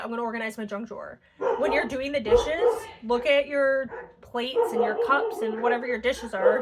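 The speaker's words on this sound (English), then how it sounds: "Sorry about the dogs." Dogs bark and yip repeatedly in the background of a home while someone talks continuously over them, with some whimpering mixed in.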